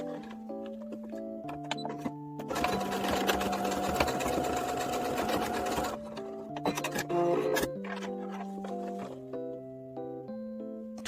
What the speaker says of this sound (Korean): 2cm 내려온 지점 박음질해서 고정해 주시면 됩니다